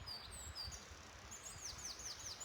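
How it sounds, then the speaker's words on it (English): Birds sing in a forest, thin high chirps and short descending whistles repeating at a moderate distance over a soft, steady outdoor hush. "I've been listening to the bird song."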